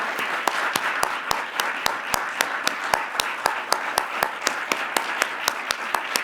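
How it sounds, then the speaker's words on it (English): An audience at a concert applauds student performers with a dense wash of clapping. Crisp, evenly spaced claps stand out above it, sustained steadily throughout. "Can we have another round of applause for all of these incredible,"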